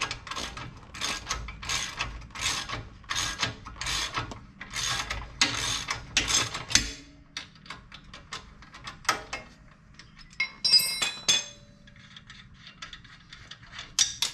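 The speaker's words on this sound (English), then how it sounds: "Switch to the normal ratchet now. Should be able to back this on out of here." A ratchet wrench backs out an axle bolt on a Jeep TJ, close up, with a fast run of rhythmic clicking strokes followed by slower, scattered clicks, metal taps and handling noises.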